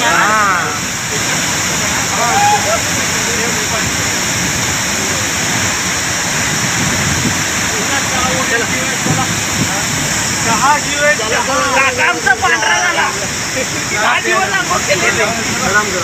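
Rautwadi waterfall at Dajipur roars in a steady, loud broadband wash of falling water, with people talking faintly over it.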